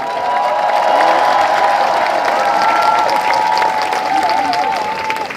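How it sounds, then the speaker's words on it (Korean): A large crowd at an outdoor rally in Seoul gives sustained, loud applause to welcome a city council member, with a steady wash of clapping, a few cheers, and a faint tonal hum running through it. "모실 때에 큰 박수로 환영해 주시기 바랍니다."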